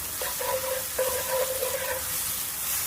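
Garlic sautéing in butter in a pan gives a soft, steady sizzle with faint bubbling crackles throughout.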